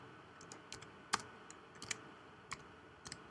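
Several light, scattered key clicks from a computer keyboard as a short name is typed, irregular and fairly close in a quiet room with no voices.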